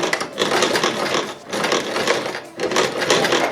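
A sewing machine stitches in a zipper with a rapid, steady mechanical whir, running loud and close in three bursts separated by brief pauses.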